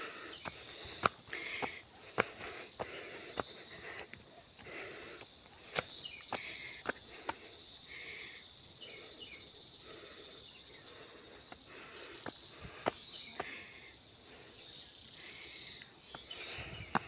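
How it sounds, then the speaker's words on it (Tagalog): Crickets and other insects chirr steadily, with pulsing bursts and sharp ticks, in open hill country at Buffalo Hills during a hike. The chorus is moderately faint and continuous, with no talk. "Puro kulisap ng ibon ang aming naririnig."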